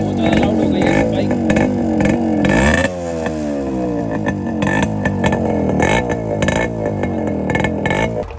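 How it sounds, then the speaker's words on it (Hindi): A Yamaha RX100 motorcycle with its exhaust mesh removed runs loud and close, its raspy two-stroke engine revving up and down with rattling clatter throughout. "भाई बहुत ज़्यादा लाउड हो गई है बाइक"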